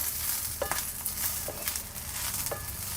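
Cluster beans being stir-fried in oil in a village kitchen give a soft, continuous sizzle broken by a few spatula scrapes and taps over three seconds.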